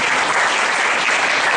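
A church congregation in Atchutapuram claps together during a pastor's sermon, producing a dense, loud, continuous wash of applause with no break.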